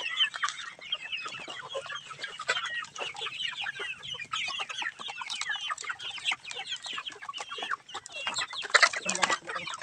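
A flock of chickens clucks and chatters continuously, close by and fairly loud, with overlapping calls and a few sharper squawks near the end.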